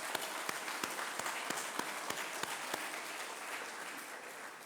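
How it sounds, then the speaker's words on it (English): A graduation-ceremony audience applauds the graduating students of an Indian school in Al Seeb: steady, moderately distant crowd clapping with a few sharper individual claps standing out, sustained throughout. "Give them a big round of applause."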